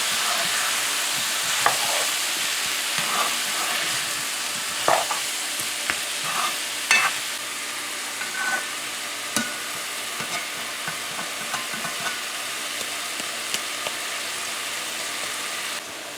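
Long beans with salted fish and potatoes sizzle steadily in a pan while a spoon stirs and scrapes, with several sharper knocks against the pan.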